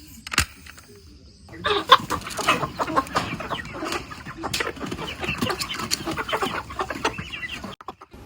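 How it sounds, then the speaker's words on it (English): Village chickens clucking at feeding time, a busy flock of overlapping clucks and short calls with sharp pecks and rustles, close and fairly quiet, no talking. "Time to feed the chickens."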